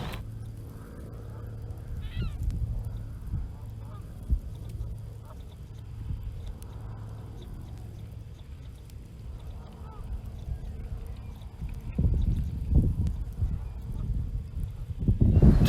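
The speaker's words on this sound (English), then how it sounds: "Did you notice the geese?" Geese honk in a nature preserve ecosystem, a string of repeated calls at moderate distance over quiet outdoor ambience, with other bird sounds and a louder rustling burst toward the end.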